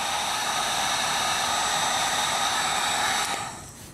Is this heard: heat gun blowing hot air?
yes